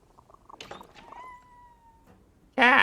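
A cat meows in The Thaumaturge video game, a sustained tonal meow preceded by soft clicks and murmurs, then cut off by a sudden loud burst of noisy sound at the end.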